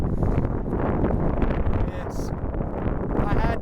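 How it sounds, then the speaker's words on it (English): Loud, steady wind buffets the camera microphone outdoors by a roadside, a dense continuous roar that barely lets up. "The wind gets really loud."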